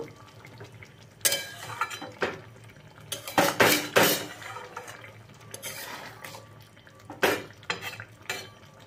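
A pumpkin and gobindobhog rice dish with ghee is stirred in a pot, producing irregular bursts of spoon scraping and metallic clinks against the pot, loud and close, between quieter pauses.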